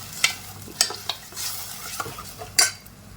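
A pea nimona mixture roasts in a pan with a soft sizzle, broken by four or five sharp metallic scrapes and clinks of a spoon stirring against the metal, close by.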